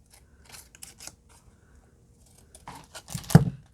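Scissors snip through fabric or paper scraps in a run of soft, quick cuts with pauses between. The clips are close but quiet, ending in a louder crunching snip.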